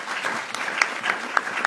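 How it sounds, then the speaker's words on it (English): An audience at an NIH behavioral and social sciences honors event applauds, a steady, moderate patter of many hands clapping with a few sharper individual claps standing out. "a final round of applause"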